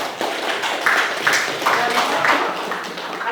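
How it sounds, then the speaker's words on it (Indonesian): Students in a classroom clap together in a steady, close-up burst lasting a few seconds, with voices mixed in. "Beri tepuk tangan untuk"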